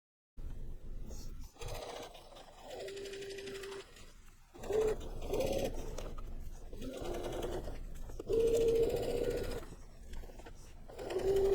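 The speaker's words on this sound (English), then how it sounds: "then I'm going to start stitching right here at the curve" A sewing machine stitches fabric for a cord organizer, running in several continuous bursts of whirring needle rattle with brief pauses in between, close and steady.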